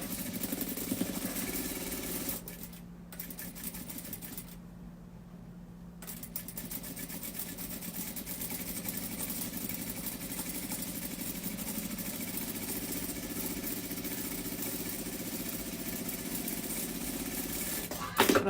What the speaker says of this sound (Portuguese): Venho aqui na máquina e vou costurar isso aqui.